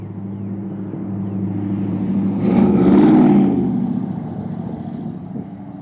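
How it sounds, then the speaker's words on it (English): A very loud truck revs as it passes close by, its engine roar swelling to a peak midway and then fading again, with no talking. "he's got a very loud truck"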